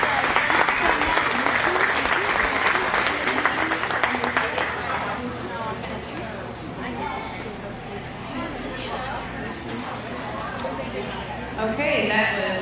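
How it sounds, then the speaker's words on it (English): Loud applause from a crowd at a county fair livestock show, steady clapping mixed with chatter that tapers off midway and then swells briefly again near the end. "So let's give these kids a round of applause."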